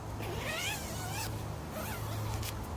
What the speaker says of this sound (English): 2-way zip